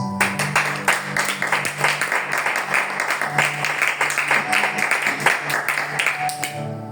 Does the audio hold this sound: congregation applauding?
yes